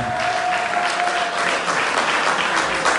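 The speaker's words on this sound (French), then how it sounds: "Je vous prie d'applaudir pour le président Donald Trump." A crowd at an evening vigil in Washington, DC applauds for President Donald Trump with loud, sustained clapping, while a thin whistle-like tone runs through the first half.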